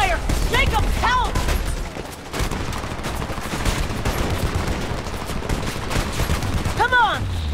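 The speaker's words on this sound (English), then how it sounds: "Under heavy fire!" Heavy, continuous gunfire fills a battle in the video game Homefront, with bursts of automatic fire and rapid shots close by, while voices shout over the din.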